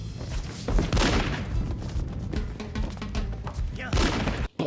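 Gunfire in the film Desperado, a dense scene of repeated loud booming shots and impacts layered with other action noise, with a few separate heavy blasts standing out.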